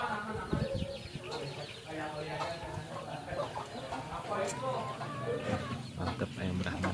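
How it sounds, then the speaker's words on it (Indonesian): Brahma chickens cluck and chatter at moderate distance in a busy outdoor setting, with scattered short calls over a steady background while people talk nearby. "Mantap ayam Brahmana."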